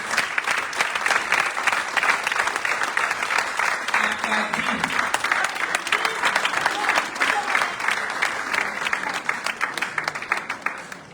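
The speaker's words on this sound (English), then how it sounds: "Please give her a big round of applause." Applause from an audience welcoming the president of the Female Parliamentary Caucus, Honorable Nene Lebi, at a formal state event; a dense, steady clapping crowd, loud and sustained, with a few voices mixed in beneath.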